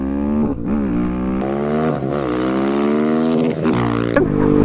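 A 2024 KTM 690 SMC R supermoto motorcycle accelerates hard and loud nearby, its engine note climbing in rising sweeps broken by brief dips at each gear change.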